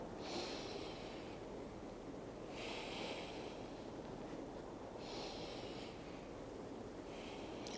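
Slow, deep breaths during a yoga vinyasa, with audible breathy exhales recurring about every two and a half seconds, close and soft with no speech.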